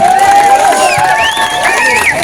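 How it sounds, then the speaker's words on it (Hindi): A loud crowd cheers and applauds at a day-and-night volleyball tournament's closing ceremony, with shrill whistles and excited shouts riding over continuous clapping close by. "आप सब लोग जोरदार तालियों से उनका स्वागत करेंगे"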